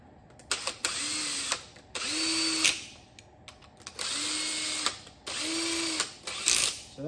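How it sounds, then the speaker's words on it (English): Power drill boring a hole in a wooden gantry frame, four loud whining bursts of roughly a second each with brief pauses between, close up and alone. "now I got to drill a hole here where I'm going to put a pin"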